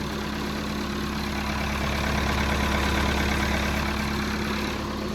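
Lincoln SA 400 welder with a fully mechanical engine setup idles steadily and loudly at close range, a constant low droning rumble with a faint regular pulse and no voices over it.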